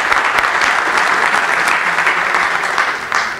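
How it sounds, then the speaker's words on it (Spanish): Audience applause at a panel on electric transport in Latin America, a dense steady patter of many hands clapping throughout, fairly loud and continuous with no talk. "el aplauso merecido."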